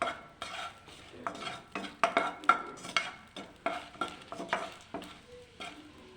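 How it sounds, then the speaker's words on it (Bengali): Dried red chillies fry in a pan for an aloo vate dish, giving a rhythmic series of scraping stirs and soft sizzles, close and clear with no talking. "শুকনো লঙ্কা দিয়ে দিলাম।"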